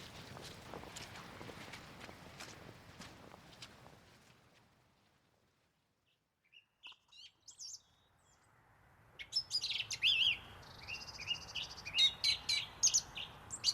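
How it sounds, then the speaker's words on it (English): A song thrush sings in repeated bright phrases that start after a stretch of footsteps and a brief hush, growing fuller and louder toward the end, with no voices. "of one of our most competent songsters, the song thrush."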